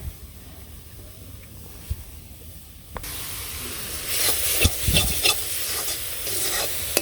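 Saag, leafy greens, frying in a pan in a village kitchen: a soft hiss at first, then a louder, close sizzle with scraping stirs and bursts of steam for the last few seconds.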